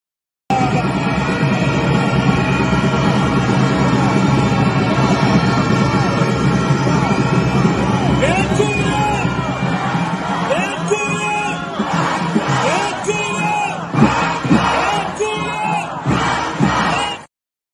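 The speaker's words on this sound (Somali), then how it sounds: "bal aynu daawanna in yar bannaanbaxayaasha iyo halkudhegda iyo sida ay u qaylinayaan" Crowd of protesters at a demonstration in Israel shouting and chanting slogans, a continuous loud roar of many voices with rising whoops and cries throughout.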